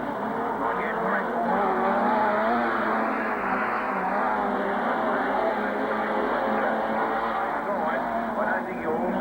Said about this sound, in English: The 57 car there slotting into third, then Walling.